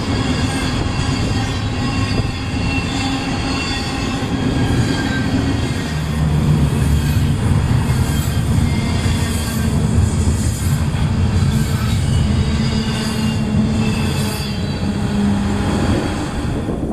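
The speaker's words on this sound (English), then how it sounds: "First up is the ZAILC, with a Norfolk Southern leader blasting over Main 1 towards Fort Worth, El Paso, Tucson, and eventually Los Angeles." A Norfolk Southern locomotive leads the ZAILC intermodal freight train at speed over the main line, a loud, steady roar of engine and rolling wagons with wheel noise sustained close by throughout.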